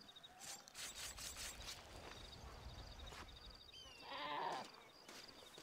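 A sheep bleats in the video game Red Dead Redemption, a single nasal call standing out near the end over a steady outdoor ambience of insects and soft footsteps.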